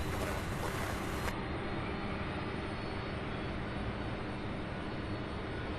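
An airliner taxis at Louisville airport, its engines a loud, steady broadband roar with a constant whine, heard from outside without any talking.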